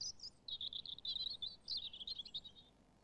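European robin singing in a British garden, a fast, thin, high warbling phrase of tumbling twittery notes in several bursts, clear and fairly close with little background.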